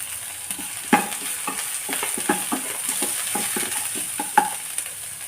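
Green chillies stir-fried in a pan for veg momos give a soft sizzle under repeated quick scraping and clinking strokes of a spoon, close and steady with no talk.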